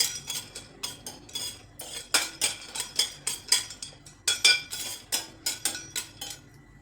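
Lumps of asafoetida are roasted in a pan for traditional metkut: a spoon stirs them with quick, rhythmic metallic clinks and rattles, close and fairly loud, with no voices.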